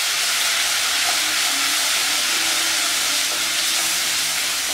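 Ginger garlic paste fries in hot oil in a kadai with a dense, continuous loud sizzle and hiss, steady throughout with no talking.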